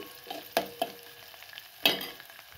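Vegetables for a bottle gourd curry frying lightly in a pan, a soft sizzle under a few sharp stirring clicks and taps of a spoon against the pan, quiet and close with no talking.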